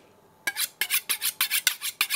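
A kitchen knife being sharpened, its blade drawn across a steel or stone in about seven quick, even rasping strokes, close and clear with no talk.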